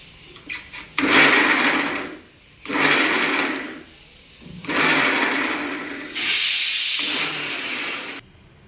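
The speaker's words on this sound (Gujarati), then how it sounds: "આદુ મરચાં લસણ પીસો તે આમ ઝટકા મારવાના" A mixer grinder pulses ginger, green chilli and garlic into a coarse paste in four loud whirring bursts, each lasting roughly one to two seconds, with brief gaps of quiet between them.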